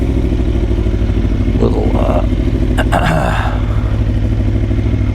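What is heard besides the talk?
Aprilia Tuono motorcycle riding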